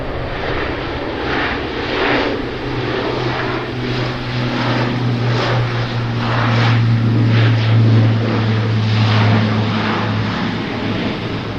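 A propeller aircraft takes off from the Gibraltar runway and climbs away, its steady engine drone rising somewhat louder midway and holding under light wind and ambient noise, with no talking.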